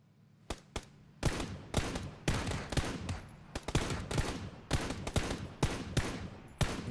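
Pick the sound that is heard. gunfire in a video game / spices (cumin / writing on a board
gunfire in a video game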